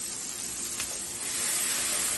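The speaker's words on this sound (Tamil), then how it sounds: "நல்லா தக்காளி பஞ்சு மாதிரி வதங்கி வரட்டுங்க" Tomatoes sautéing in a pan for a Tamil mushroom chukka, giving a steady, close sizzle and hiss that runs without a break, with one brief brighter spurt of steam near the start.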